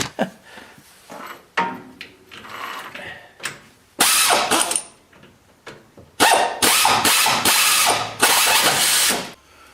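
Ratchet wrench clicking while unscrewing a rusted nut during ball joint, tie rod and wheel bearing work on a Ford E-350 van; loud bursts of rapid ratcheting come in several runs, separated by quieter clanking and handling noises.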